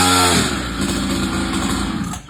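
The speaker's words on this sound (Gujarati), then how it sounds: "આ હે જીજે 49 વાળાની 49 સીસી ની ડર્ટ બાઇક અને પેટ્રોલ થી હાલે." A 49cc petrol dirt bike engine runs close by, a steady buzzing two-stroke-style drone with rapid pulsing that holds for about two seconds before cutting off abruptly at the end.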